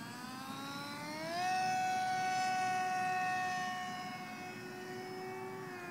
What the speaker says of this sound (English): nice low flyby, and line up for our landing